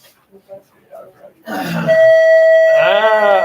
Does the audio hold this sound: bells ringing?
yes